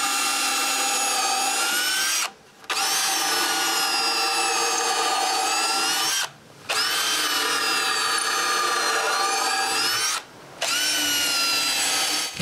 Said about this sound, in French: marquer l'endroit où je dois percer les trous pilotes des tire-fonds et les percer